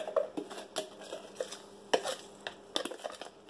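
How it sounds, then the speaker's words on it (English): Pre-measured lye granules are sprinkled over frozen goat milk ice cubes in a bucket, giving scattered light clinks and rattling taps at an irregular pace, close and fairly quiet, with no talking. "Sprinkling my pre-measured lye over the top."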